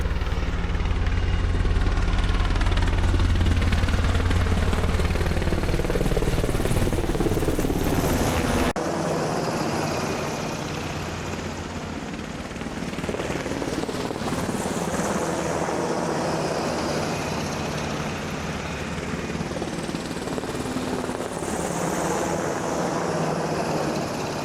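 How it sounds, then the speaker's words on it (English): Helicopters pass low and close over a river campsite, a loud sustained rotor and engine roar that stays heavy throughout, with a deep throb early on and no talk. "Those helicopters were super close."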